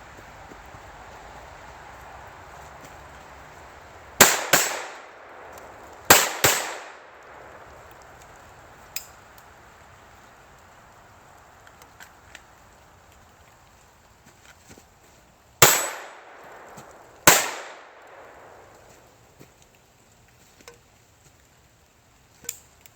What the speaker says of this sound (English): turning around shooting at a different target in a different direction